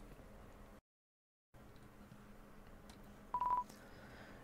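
Phone dialing tones from the video game Undertale, a brief cluster of beeps standing out near the end over a quiet low background hum, after a short silent gap.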